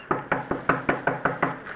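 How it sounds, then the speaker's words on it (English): Eight firm, evenly spaced knocks on the door of a flimsy shack made of paper, paste and wire, rapped close by at a steady quick rhythm, with nothing else heard. "I knocked politely."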